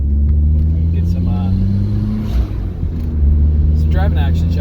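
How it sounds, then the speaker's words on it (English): Ford Focus ST with suspension work and an upgraded turbo, driven on a canyon road: a steady, loud droning engine and exhaust note with gear changes, heard from inside the car. "Hopefully you're able to hear enough of this beautiful, beautiful exhaust and engine noise."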